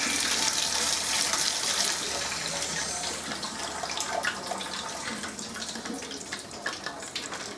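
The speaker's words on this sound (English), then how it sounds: "Give this a good wash." Tap water runs steadily into a sink as squid is rinsed for tempura, a continuous close splashing hiss with small shifting splatters and no talk over it.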